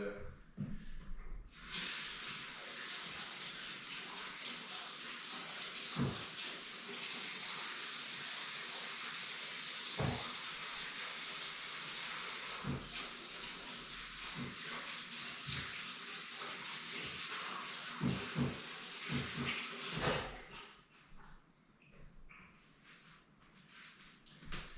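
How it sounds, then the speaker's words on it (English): Steady rush of tap water pours for about twenty seconds while hands are rinsed under the faucet during chicken preparation, with a few brief clatters, then stops abruptly. "I'm just gonna rinse my hands anyway"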